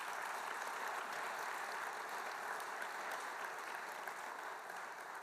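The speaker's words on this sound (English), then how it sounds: "Let's give them another round of applause." Sustained, even applause from a symposium audience after a corrections innovations panel, many hands clapping in a dense, continuous patter for several seconds and easing off slightly toward the end.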